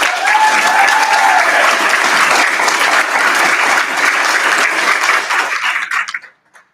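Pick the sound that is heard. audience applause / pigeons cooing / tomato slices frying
audience applause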